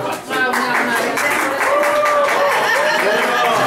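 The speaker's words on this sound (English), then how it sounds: "How about a nice big round of applause" A nightclub-style audience gives a folk singer a warm round of applause, dense clapping close and loud, with some chuckles and faint voices mixed in throughout.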